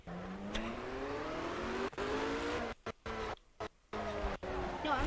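Engine of a car in the racing video game Project Cars revving hard during donuts, a sustained rising and falling whine with tire squeal, cut by brief dropouts and bursts.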